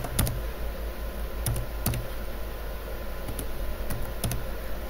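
Typing on a computer keyboard at a security conference demo, with short clusters of crisp key clicks separated by pauses over a steady background hiss.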